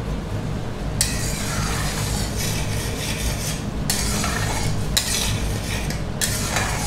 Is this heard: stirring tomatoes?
yes